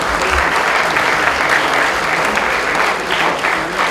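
Loud, sustained applause from a crowd for a school team at a science exhibition, dense clapping held at a steady level throughout with faint voices mixed in.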